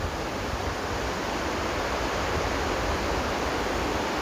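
Ocean surf at Langgir Cave on Sawarna Beach in Banten, a dense, unbroken roar of crashing water heard close and loud with no voices over it.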